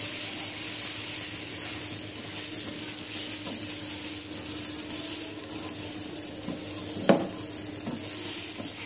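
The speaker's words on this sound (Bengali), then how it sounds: "চাউলটা ভাজা হয়ে গেছে" Rice fries quietly in oil in a pan, giving a faint, even sizzle with occasional stirring scrapes and one sharp clack near the end.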